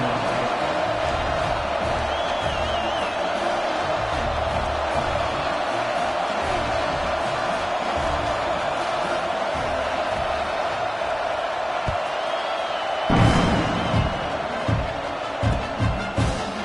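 Football stadium crowd during a kickoff return, a broad steady roar of many voices that stays loud and continuous throughout, with a few sharper bursts of noise near the end.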